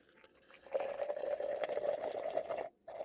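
Hot water at about 200 degrees pours from a kettle into a cup for tea, a steady close trickle lasting a couple of seconds and then stopping abruptly.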